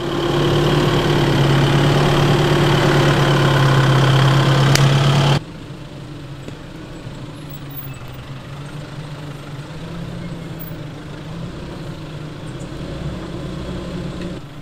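A 4x4 engine runs at a steady low drone while crawling a slow, rocky, rough mountain track in low-range gears, loud and droning at first, then dropping abruptly to a quieter rumble.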